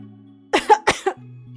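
A voice actor fakes a short burst of coughing, two or three harsh, close coughs that stand out against a faint low hum, loud and alone with no speech around them.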